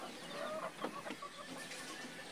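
Hens cluck in short, scattered bursts over a steady background hiss, with no one speaking, during rain in Konkan.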